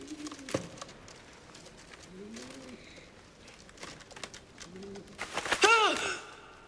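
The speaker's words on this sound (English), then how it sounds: "It's a homing pigeon." A homing pigeon inside a basket gives a few soft, low coos, close and fairly quiet, among faint rustling. A louder scuffle comes near the end.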